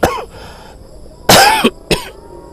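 Three harsh, close coughs, one short, then a longer one, then another short burst, with quiet between them.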